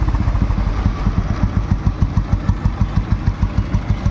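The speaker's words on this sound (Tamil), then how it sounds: "வண்டி இன்ஜின் பீட்டெல்லாம் ரொம்ப சூப்பராக இருக்குது." Close, loud idle of a 1996 Royal Enfield Bullet motorcycle engine, with an even, rapid thump-thump rhythm running throughout without a break.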